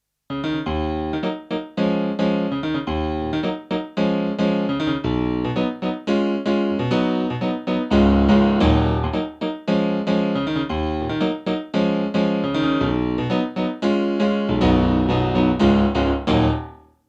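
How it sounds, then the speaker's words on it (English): A bright, crisp piano sound on a Kawai KDP110 digital piano plays an up-tempo passage of dense chords and runs for several seconds, clear and close, with no voices. "the fourth piano sound that's on the KDP110 is a really bright sound"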